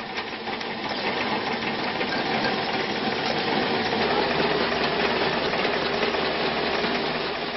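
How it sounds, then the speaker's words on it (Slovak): The motor of a corn grain mill running steadily, a dense continuous mechanical whir and clatter with a rhythmic rattling texture, loud and close with no voices. "Dnes zapína motor mlynu už len na požiadanie."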